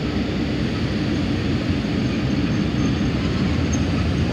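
A locomotive moving along the track toward a passenger express train to couple on, a steady close rumble of wheels and engine that holds even throughout with no clear squeal or clank.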